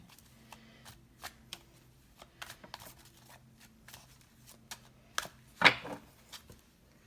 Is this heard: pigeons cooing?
no